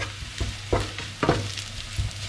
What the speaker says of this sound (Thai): เจียวกระเทียมกับเจียวหอมแดงครับ